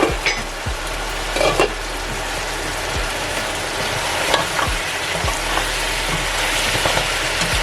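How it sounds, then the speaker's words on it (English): Jamaican stew pork stirred in a pot, with a spoon scraping and knocking against the metal several times over a steady low simmer; no voices. "it's time for another stir now"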